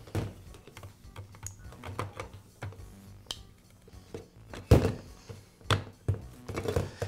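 Metal motor housing of a Skil Skilsaw circular saw being fitted back onto the motor and gearbox during a bearing repair, heard as scattered close knocks, taps and clunks, with one louder thunk midway and a cluster of handling clatter near the end.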